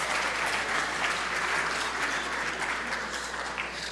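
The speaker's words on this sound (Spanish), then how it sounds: "Denle un aplauso ahí." An audience at a talk gives a dense, even round of applause that holds steady for a few seconds. It fades only slightly toward the end.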